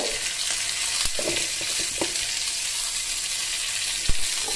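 Chutney fries in a pan with tomato, a constant close sizzle broken by a few soft knocks and scrapes of stirring and one sharper tap near the end.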